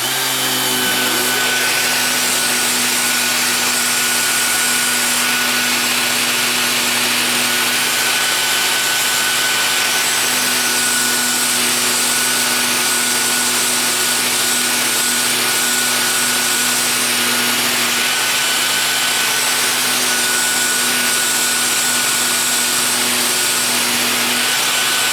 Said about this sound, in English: Turn it on and I'll just sand away most of the stuff.